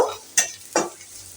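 A spoon stirs frying paste seasoned with salt in a pan: two short scraping strokes over a soft background hiss, close and brief.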